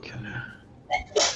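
A single sharp human sneeze near the end of a short stretch of quiet murmuring voices at a tabletop role-playing game session, close and fairly loud.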